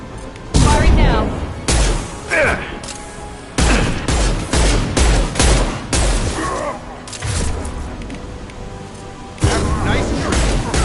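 Rapid gunfire bursts and booming shots crack repeatedly in a Mass Effect 2 firefight, loud and close, arriving in clustered volleys separated by brief pauses, with a voice speaking briefly amid the shooting.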